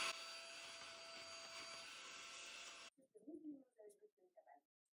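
A small car vacuum cleaner running inside a pet bird's cage hums in a steady, faint whine for about three seconds, then cuts off, leaving brief soft chirps or voice sounds.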